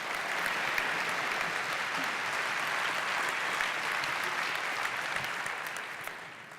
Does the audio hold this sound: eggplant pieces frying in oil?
no